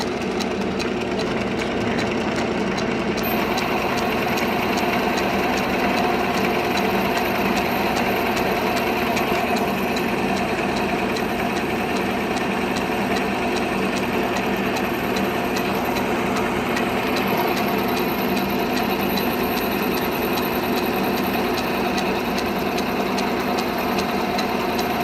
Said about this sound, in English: Clicking you hear is that's the belt, the seam on the belt.